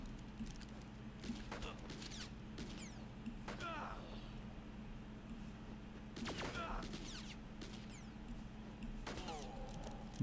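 Gunfire in the top-down shooter game Space Marshals 2: quiet, scattered sharp shots and short bursts over a low steady game hum.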